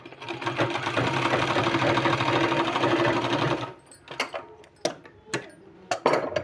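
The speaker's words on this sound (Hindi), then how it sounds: "इसको इस तरह से सिलाई लगाएंगे।" A sewing machine stitches a sleeve seam on a 1.5-inch doubled strip of fabric, running steadily and close for about three and a half seconds, then stopping to leave a few scattered handling clicks.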